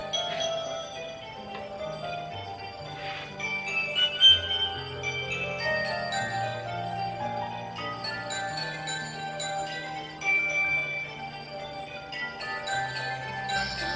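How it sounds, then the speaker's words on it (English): Music plays from a repaired personal CD stereo: a steady melodic track with bell-like tones and a sustained bass line, moderately loud and continuous, with no talking. "now you can hear the music"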